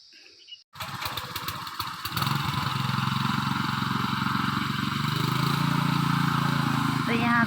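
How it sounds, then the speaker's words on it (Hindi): Tractor engine starting up and running steadily while ploughing a hillside field in a mountain village, a loud close mid-pitched chugging drone that builds after a brief quiet start. "लगा रहे हैं हल ट्रैक्टर से"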